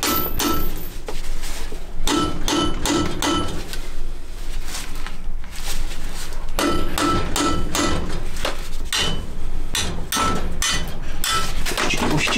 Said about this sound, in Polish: Spróbujemy to nabić młotkiem.